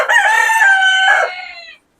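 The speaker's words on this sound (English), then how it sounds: "This is where the Polish chickens are." A Polish rooster crows once inside a coop, a loud, close, drawn-out call that rises and then trails off into silence, with no other sounds around it.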